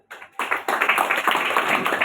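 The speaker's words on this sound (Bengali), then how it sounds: "একটা করতালি হোক আমাদের" A small audience breaks into applause at a marketing presentation, starting with a few claps and building into a dense, steady round of clapping, close and fairly loud, with no talk over it.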